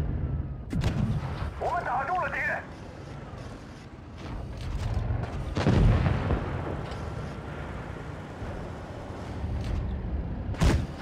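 Tank cannon shots boom in World of Tanks Blitz: a sharp blast near the start, a heavier one midway and another at the end, each with a rumbling tail over constant engine noise, with a brief chime in between.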